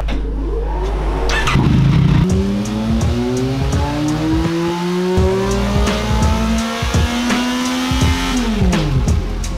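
A tuned motorcycle engine fires up with a sharp start, then revs repeatedly in rising and falling sweeps before settling, loud and close, with no talk over it.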